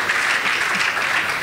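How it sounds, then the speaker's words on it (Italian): Audience applause at an Italian sports storytelling theatre show, a dense, steady wash of many hands clapping close and loud, continuous for the whole stretch with no talk over it. "merita un applauso"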